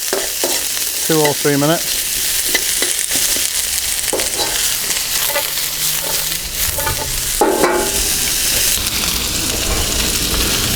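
Onion frying in oil in a pan for a Birmingham restaurant-style chicken balti, a steady close sizzle with scraping stirs, and a few brief words spoken over it.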